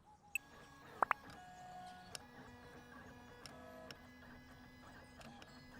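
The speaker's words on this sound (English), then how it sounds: "Go to the 3D printer and start producing it" Printing a fantasy cat model on a 3D printer in Figure Shop Simulator, giving faint steady mechanical hum with a few soft tonal whirs and scattered small ticks and clicks, no talking.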